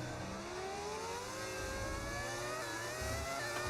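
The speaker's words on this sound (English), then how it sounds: "Why do I hear an engine behind me? It's because there's a car behind me." An F1 25 video game racing car engine, a Mercedes at the Mexican Grand Prix, whines at high pitch, its tone rising steadily as it accelerates, fairly faint and without voices.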